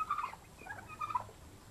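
A turkey kept in a pen for meat or ornamental raising gobbles in a short burst of rapid warbling calls, close and clear with quiet background.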